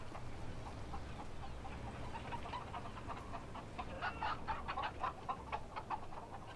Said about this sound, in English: Of course the chickens are back